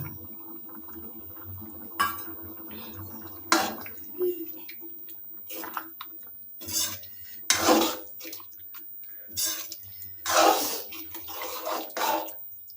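Fried snails tipped into a wok and stirred with a ladle, producing intermittent scraping, clinking and sizzling bursts spread across a quiet background, close and moderately loud.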